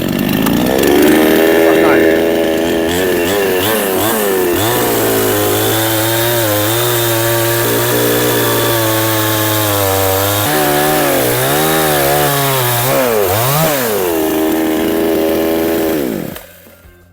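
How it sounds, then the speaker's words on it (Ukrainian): A Helper petrol chainsaw cutting into a larger tree, loud and close, the engine revving and bogging under load in long, shifting pitch sweeps before cutting off near the end, with a voice briefly over it. "А тепер пробуємо Ось таке от більше дерево, чи витримає наша пилка навантаження."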